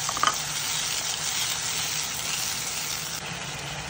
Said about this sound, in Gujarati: પેસ્ટ જે બનાવી છે આપણે અંદર નાખી દઈશું, બરાબર સુકાવા દઈશું.